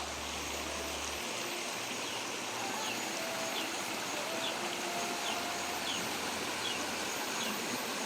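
Creek water flowing steadily near a construction area, a soft continuous rushing wash with faint bird chirps scattered over the top and no speech.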